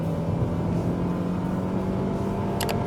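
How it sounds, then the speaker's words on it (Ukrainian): A front-wheel-drive Honda Accord with a 190-horsepower engine pulls hard under full throttle, a steady loud engine drone heard from inside the car with a brief high squeak near the end. "Прям звук дуже приємний з цього мотора."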